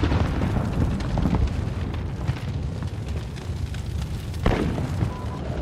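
A grenade blast in Call of Duty Modern Warfare, heard as a dense, booming rumble amid continuous loud gunfire and battle noise, with a sharper burst near the end.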